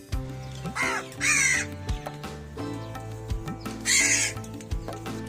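A crow caws loudly and harshly nearby, two quick calls early and another a few seconds later, over a steady tonal background.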